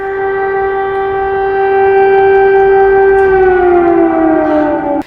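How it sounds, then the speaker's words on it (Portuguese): Loud air raid warning siren sounding steadily as an alert to a population facing new attacks, its long wailing tone holding level and then slowly falling in pitch toward the end, with no voices. "O som da sirene que alertava a população para o risco de novos ataques podia ser ouvido em"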